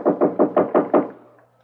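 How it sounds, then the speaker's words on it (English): A fist hammers on an apartment door in a radio drama, six loud, evenly spaced heavy knocks in quick succession, close up and alone, the last one fading into a brief room echo. "Said some guy was hammering on the door to the apartment next door."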